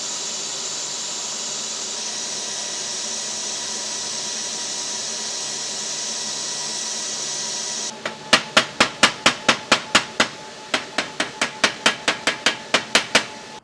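A hammer peens a fresh weld on cracked cast iron with a quick series of sharp metallic strikes, about twenty in rapid rhythm. A steady loud roaring hiss from welding or shop equipment fills the background before the strikes start.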